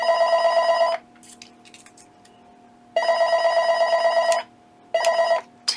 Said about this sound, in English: I have a phone ringing in my ear.